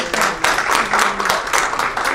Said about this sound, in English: Please join me in giving them a round of applause for being here.